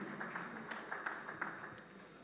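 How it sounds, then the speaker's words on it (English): A conference audience at an infrastructure and consulting event gives quiet, scattered applause, a modest patter of claps heard from a distance at low level that stays fairly even before tapering slightly. "Let's put our hands together for ACES as they address us quickly."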